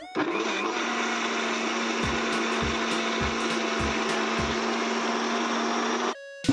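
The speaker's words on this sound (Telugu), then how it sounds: "మెత్తగా మిక్సీ పట్టుకున్నాం ఫ్రెండ్స్" Mixer grinder blending peanut chutney with water until smooth, a steady loud whirring motor with rhythmic knocking pulses partway through, stopping suddenly near the end.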